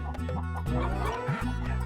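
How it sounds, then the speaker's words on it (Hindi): Hen clucking continuously and close up at a royal court, a steady run of short, rapid clucks with no voices. "ये मुर्गी नहीं है, रूपवती है, मेरी मित्र, मेरी शुभेच्छु।"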